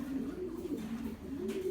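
Racing pigeons coo softly in a breeder loft, a low, steady burbling that runs on without a break, fairly close and gentle.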